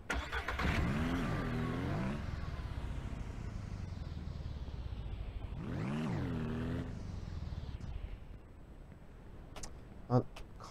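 A ranch vehicle in Ranch Simulator starts up and revs hard for about two seconds, then idles with a rumble. A second loud rev swells midway before the engine fades to a low hum.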